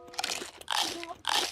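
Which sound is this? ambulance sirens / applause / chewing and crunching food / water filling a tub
chewing and crunching food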